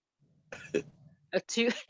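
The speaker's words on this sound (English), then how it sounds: "I'm getting ready to cough." A short throat-clearing cough, then a sharper cough burst with a rough, raspy tail, close to the microphone, with no other sounds.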